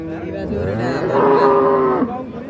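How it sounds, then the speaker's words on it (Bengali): Cattle moo at a rural cattle market where dairy cows and their calves are sold, one long, loud, close bellow rising and falling over about two seconds against a low crowd murmur. "এই পাশে কিন্তু ছোট ছোট বাচ্চাগুলো আছে এবং গাভীগুলো আছে দেখতে পাচ্ছেন"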